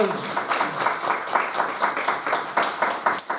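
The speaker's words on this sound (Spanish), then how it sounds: "Den un aplauso al Señor" A church congregation claps in a quick, steady rhythm, moderately close, with voices mixed in.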